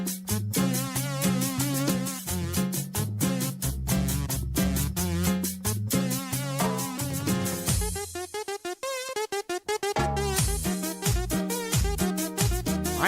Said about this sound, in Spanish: Cumbia suena así.